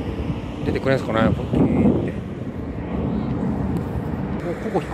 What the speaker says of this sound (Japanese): 飛行機の音は結構しますね。